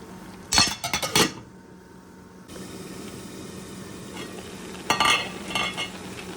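Nali shag greens cooking with garlic and lemon leaves are stirred in a pan with a ladle, giving bursts of clattering scrapes and clinks over a soft, steady frying hiss.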